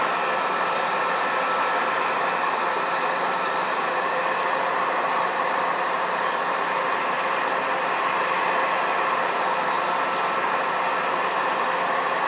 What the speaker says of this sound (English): once I take a blow dryer to it